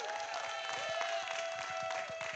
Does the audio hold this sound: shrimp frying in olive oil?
no